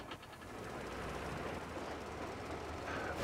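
Train running in the Metro Exodus video game, a steady rumble with faint rail rattle continuing throughout at a constant moderate level, without speech.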